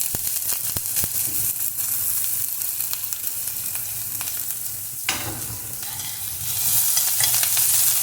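Onion and a green chili sautéing in a pan for beetroot poriyal, a dense steady sizzle with quick stirring clicks early on and a brief louder scrape midway, the frying swelling slightly toward the end, no speech.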